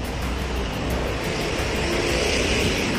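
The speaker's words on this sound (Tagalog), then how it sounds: "Maingay. May dumadaang truck." A passing truck outside a camera museum in the Philippines makes a loud, steady engine roar and road rumble that fills the whole stretch.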